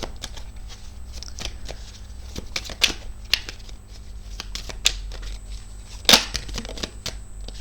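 Tarot cards being shuffled in a series of quick riffling and slapping bursts at close range, with one sharper snap near the end and no voices.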